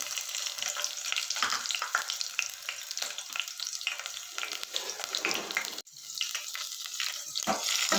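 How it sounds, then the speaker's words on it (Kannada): Green chillies are dropped into hot oil in a pan and fry with a loud, steady, close crackling sizzle that runs without a break, dipping once briefly before carrying on. No one speaks. "ಇವಾಗ ಅದಕ್ಕೆ ನಾನು ಹಸಿರು ಮೆಣಸಿನ್ಕಾಯಿ ಹಾಕ್ಕೋತಾ ಇದ್ದೀನಿ"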